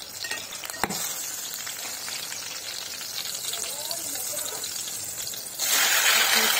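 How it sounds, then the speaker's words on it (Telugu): Ripe green chillies fry in hot oil, giving a steady close sizzle and crackle throughout, with a single sharp pop near the start and the frying swelling louder and brighter toward the end. "ముందుగా ఆయిల్ ఇలా హీట్ అయ్యాక పచ్చిమిర్చి వేసి వేయించుకుంటున్నాను."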